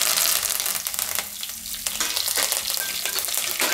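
Whole spices such as cinnamon, cloves, star anise, bay leaf, dried red chilies and curry leaves sizzling and being stirred in hot oil for Gujarati dal palak, a loud continuous frying hiss with scraping stir strokes, close up.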